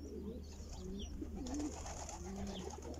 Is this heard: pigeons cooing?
yes